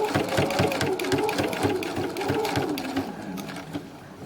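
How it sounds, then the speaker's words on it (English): A sewing machine stitches quilt binding at a quarter-inch seam allowance, its fast, steady mechanical whir and needle chatter running loud and close throughout with no talking. "I'm going to carry on stitching at 1/4 inch."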